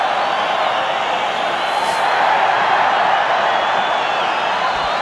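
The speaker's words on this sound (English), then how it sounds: "Great roar from the crowd as the referee indicates that it's Transvaal's put in at the scrum." A rugby crowd at the 1993 Super 10 final between Transvaal and Auckland roars at a stadium, a loud, sustained, dense wash of cheering that holds steady throughout with no break.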